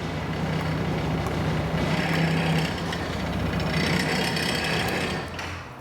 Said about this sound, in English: Now I'll turn the scooter off so you don't have the noise